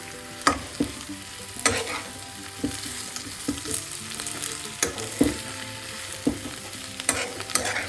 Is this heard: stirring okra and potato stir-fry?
yes